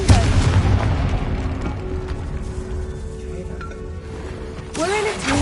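A Confringo explosion spell cast in a Harry Potter video game sets off dull booming blasts over a dense, rumbling game soundscape, with a brighter burst near the end.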